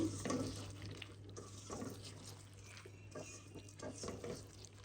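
Close, soft wet squelching and squishing as a dal chorchori mixture of lentils and vegetables is mashed and kneaded by hand in a bowl, with faint clinks and a low background hum.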